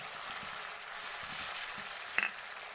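Tomato dropped onto ginger paste, cumin and a bay leaf in hot oil for a vegetarian cabbage curry, a soft steady sizzle close by with a few faint clinks and one sharper tap near the end.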